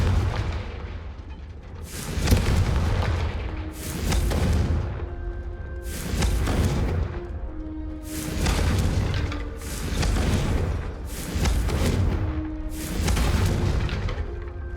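Confringo fire-spell explosions in Hogwarts Legacy, a series of about seven deep, loud booms spaced roughly two seconds apart, each with a rumbling tail, over continuous game noise and with no talk.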